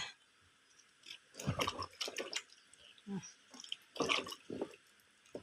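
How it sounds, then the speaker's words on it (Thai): Mushrooms being washed by hand in water make soft, irregular splashes and sloshing bursts close by, quiet overall with gentle dripping between movements. "ล้างเห็ดครับ ล้างดีๆนี่"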